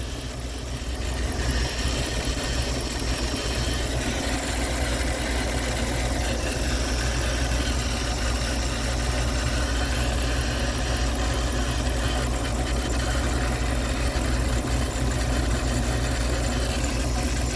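Dodge conversion van engine idling after a cylinder head replacement, a steady low rumble with constant mechanical vibration, close and even throughout with no voices.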